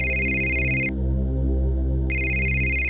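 A mobile phone ringtone rings loudly in a repeating electronic pattern with a short pause in the middle, sounding alone with no voices.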